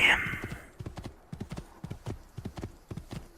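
Horse hooves gallop across crops in the video game Assassin's Creed II, a rapid, regular clip-clop of sharp close thuds, opening with a brief whinny-like burst, and no talk over it.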